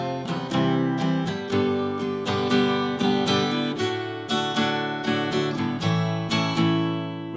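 Guitar plays the bridge section of a song with steadily strummed chords in a regular rhythm, loud and close, with no voice over it.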